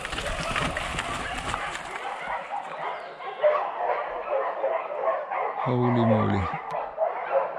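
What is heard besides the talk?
dogs barking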